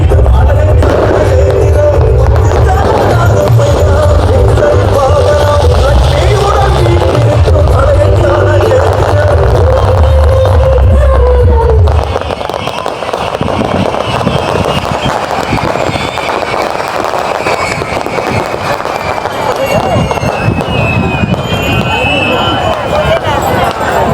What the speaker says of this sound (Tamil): வான வேடிக்கைகள் எல்லாம் வந்து இடையிடைக்குள்ள போட்டு கொண்டிருக்கிறோம்